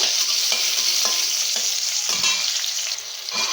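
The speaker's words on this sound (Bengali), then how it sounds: "আমি ঢ্যাঁড়স ভেজে তুলে নেব" Okra frying in white oil with salt, a loud, dense and steady sizzle close by, with occasional soft stirring taps and scrapes underneath.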